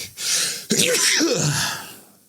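One person sneezes loudly and close by, a sharp burst after a brief intake of breath, then fading into a breathy tail.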